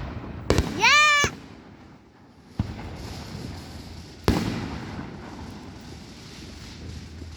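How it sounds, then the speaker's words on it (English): Fireworks explode outdoors: a whistling rocket rises, then sharp loud bangs follow at intervals over steady wind noise, near and punchy. "Some fireworks over there."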